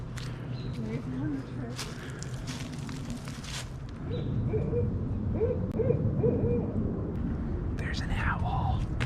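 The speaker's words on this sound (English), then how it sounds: "There's an owl." An owl hoots several times in a wooded spring setting, soft repeated calls at moderate distance, with people talking quietly and footsteps underneath.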